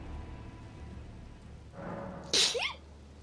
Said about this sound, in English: Go ahead and sneeze.